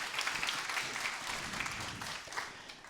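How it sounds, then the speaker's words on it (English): An audience at a personal branding workshop gives a round of applause for a volunteer, a steady, somewhat distant clapping from many hands that continues evenly for a few seconds. "can you give her a round of applause again for being so awesome?"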